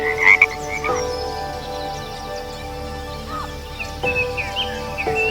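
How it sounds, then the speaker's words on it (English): Frog croaking in the Amazon rainforest during the rainy breeding season, steady repeated calls layered over a dense chorus of insects and distant birds, moderately loud and continuous. "The rainy season is also the breeding season for this frog."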